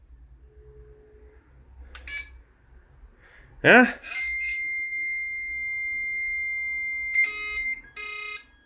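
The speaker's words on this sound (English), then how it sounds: "I will now call home to see will we hear the modem beeping." A phone call from a phone booth connects to an acoustically coupled modem and a loud chirping burst is followed by a long, steady electronic tone with warbling beeps, a brief voice speaking near the start.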